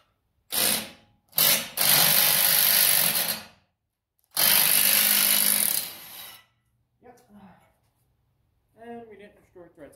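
A small power tool, likely an impact driver, hammers at a stuck part on a Ford 7610 tractor in loud sustained bursts of a couple of seconds each, followed by someone talking briefly.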